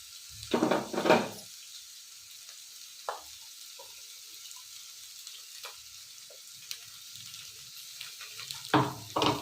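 Spices fry in a pan for a sprouted horse gram saaru, heard as short bursts of sizzling and stirring at the start and again at the end. Between them the pan is quiet apart from faint clicks.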